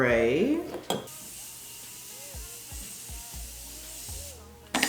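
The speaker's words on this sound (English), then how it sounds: "All right, let us spray." A spray can releases a steady, airy hiss for several seconds. It starts after a brief clatter, with faint movement and quiet background sounds around it.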